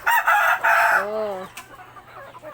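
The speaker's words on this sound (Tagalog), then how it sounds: "Puro pinaupong manok." Pet chickens kept at a family home cluck loudly and close for about a second, then a short rising crow-like call follows; a brief exclamation is spoken over the birds.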